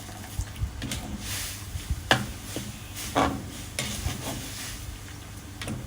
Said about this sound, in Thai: คั่วหอมแล้วค่ะหอมพริกแกง